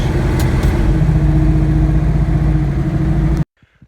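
A 1974 Chevrolet Nova's engine runs loud and steady with a rough, throbbing idle, with oil smoking off the header, then cuts off abruptly, leaving a few faint knocks.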